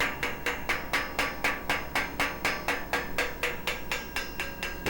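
A hammer tapping on metal in a welder's shop rings in a steady, evenly spaced series of about fifteen sharp metallic strikes, loud and close, with no talking.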